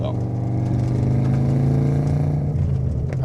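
A JDM Subaru Legacy B4 at stock ride height cruises on a road, heard from inside the cabin as a steady, loud engine and road drone, with people talking over it.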